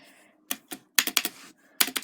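Keys on an IBM PC Convertible 5140 laptop keyboard are struck in short irregular bursts, sharp close clicks and clacks grouped in clusters with brief pauses between them.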